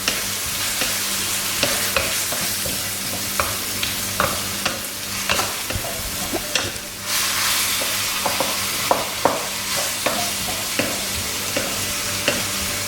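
Onions sautéing in a pan with a paste, giving a steady sizzle broken by repeated scraping and clacking as a spoon stirs them, close up with no voices.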